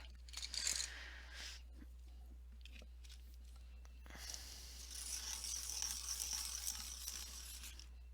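A black colored pencil being turned in a sharpener, giving faint, steady scraping and grinding that builds over several seconds, with a short louder rasp near the start.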